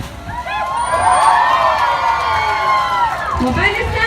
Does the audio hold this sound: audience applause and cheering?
yes